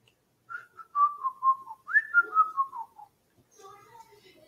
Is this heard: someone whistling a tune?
yes